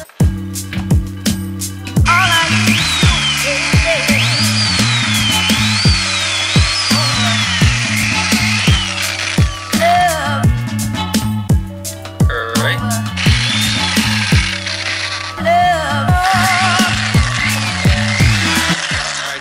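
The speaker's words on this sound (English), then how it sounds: "I'm gonna drill a hole through that progressively from smaller to something a bit bigger" A power drill whines continuously, its pitch rising and falling as it bores a hole in a BMW E9x bumper for a diffuser mounting point, with repeated mechanical clicks and rattling throughout; no voices.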